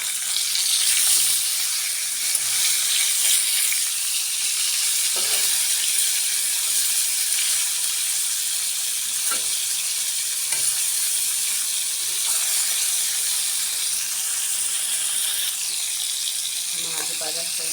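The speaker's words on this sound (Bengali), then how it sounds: "মাছটি এখন উল্টে নেব।" Surma fish frying in hot oil in a pan, a steady loud sizzle and hiss throughout with occasional scraping and stirring clicks as the fish is turned.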